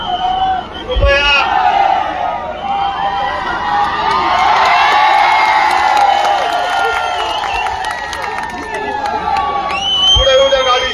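A large crowd cheers and shouts loudly and without a break at a welcome rally in Manchar town, with whoops and scattered applause and voices calling out over the din.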